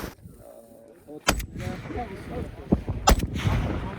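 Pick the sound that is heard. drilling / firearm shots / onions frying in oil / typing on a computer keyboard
firearm shots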